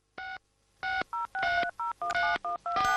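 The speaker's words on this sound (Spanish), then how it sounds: "el teléfono de tonos nos ha ahorrado una media de 400 horas de marcado" A run of touch-tone telephone DTMF dialing beeps, about ten short two-tone pulses in an uneven rhythm, clear and close with no talk.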